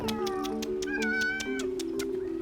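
Many cats meow together in a home shared with over 1,000 rescued cats and kittens, including feral, abandoned and injured animals. Overlapping, drawn-out meows rise and fall close by, over a steady background hum and light ticking.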